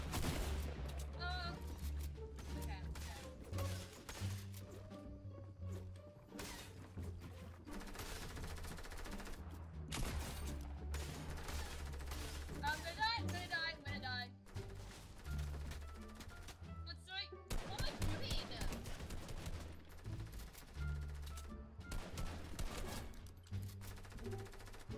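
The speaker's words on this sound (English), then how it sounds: "Why are you shooting at me?" Rapid bursts of automatic gunfire from a Fortnite squads match crackle through the whole stretch, dense and continuous with brief lulls, while players talk over the shooting.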